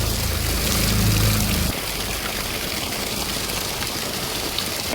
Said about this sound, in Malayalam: ഇവിടെ ചെറിയ ചാലിലേക്കൂടി വെള്ളം ഒഴുകുന്നത് കാണുന്നത്. നല്ല ഒച്ചയുണ്ട്.